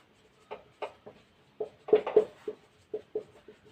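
Chalk or marker strokes on a board during a Hindi-medium Class 12 vector algebra maths lesson, a series of short, separate taps and scratches in an irregular rhythm, close and fairly quiet, with no talking over them.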